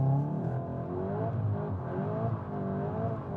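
A 2021 VW Golf GTI Clubsport accelerating hard in a launch control attempt, the engine note climbing through rising revs with a brief dip, loud and close, no talking.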